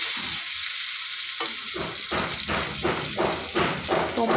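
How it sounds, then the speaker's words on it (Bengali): Fish pieces coated with salt and turmeric fry in oil with a loud, continuous sizzle. Rhythmic bursts of crackling repeat about every half second as the pieces are turned and stirred, with no voices. "দিয়ে এবার এটাকে ভালো করে ভেজে নেব"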